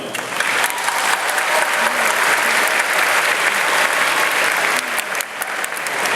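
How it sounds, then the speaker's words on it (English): A crowd applauds continuously at a high school graduation ceremony, dense clapping that stays loud and steady throughout. "Round of applause."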